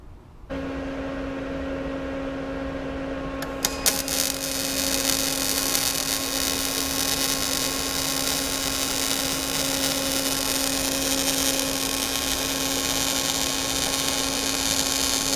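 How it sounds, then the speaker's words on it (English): Welding new crossbars onto the roll cage of a Polaris RZR 800, a steady electric buzz with a constant hum that starts abruptly and runs unbroken, briefly intensifying early on. "Time to weld it out."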